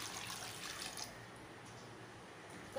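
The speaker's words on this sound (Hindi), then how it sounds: "अब इसमें पानी डालना है," Water poured into a besan kadhi mixture in a home kitchen, a steady soft trickle and splash running for a few seconds, faint and close, with no talk over it.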